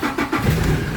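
A Toyota Hi-Lux engine starts up after a no-crank, no-start fault, giving a short, loud, close burst of cranking and catching that rises into a running engine.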